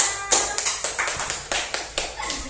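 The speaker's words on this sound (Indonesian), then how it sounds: "Tepuk tangannya." A classroom of pupils claps together after a group presentation, a quick run of sharp, even hand claps repeating at a steady rhythm for a couple of seconds, fairly close and clear.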